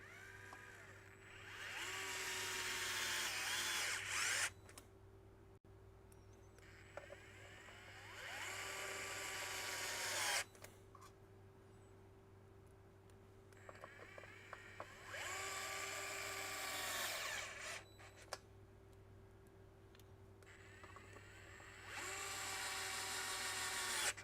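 A small electric screwdriver drives Torx 10 screws into an Xbox One S console during a repair, in several separate whirring bursts that ramp up and cut off, with quiet clicks and handling between them.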